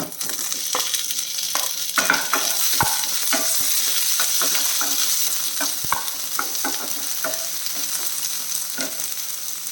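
Chopped ivy gourd fries with cumin in a pan, giving a dense, bright, continuous sizzle close by, punctuated by scattered scrapes and taps from stirring.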